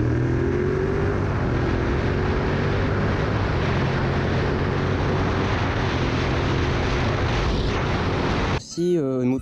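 A Yamaha MT-07 motorcycle engine running through an Arrow full exhaust system with the baffle kept in gives a steady, throaty drone that holds for several seconds before an abrupt change near the end.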